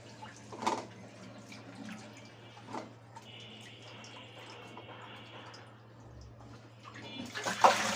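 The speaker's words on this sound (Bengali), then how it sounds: "এখন হচ্ছে আমি রান্নার প্রিপারেশন নিচ্ছি এখানে হচ্ছে আমি সবজিগুলো হচ্ছে ধুয়ে নিচ্ছি" Tap water runs while vegetables for a fish curry with potato and eggplant are washed, a steady splashing stream with drips and louder splashes, under a constant low hum, ending in a sharper burst of water.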